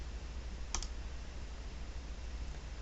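A single quick mouse click, a faint double tick near the start, heard alone over a quiet background hiss.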